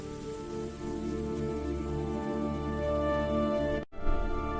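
Rain falls steadily and evenly over an outdoor nature scene, forming a constant wash of sound. A brief dropout comes near the end, and then the rain carries on.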